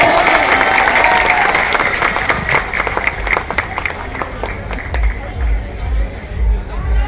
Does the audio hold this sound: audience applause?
yes